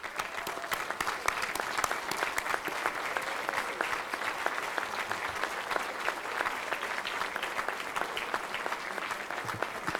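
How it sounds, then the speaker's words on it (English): A banquet hall audience at an athletics hall of fame dinner applauds standing athletes, with sustained, dense clapping at a steady level throughout, many hands close and far blending together. "let's give them a round of applause"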